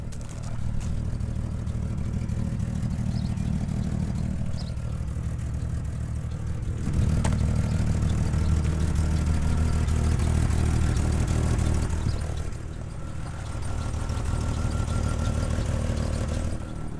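A 2001 Jeep Cherokee 4x4 with a lift idles with an exhaust leak, a steady low rumble with faint tapping running through it, swelling slightly in the middle as the engine picks up briefly, with no talking.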